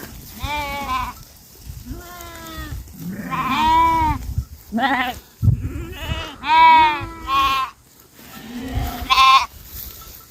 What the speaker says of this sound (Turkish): sabah erken saatlerinde koyunları hemen çeperden çıkarttım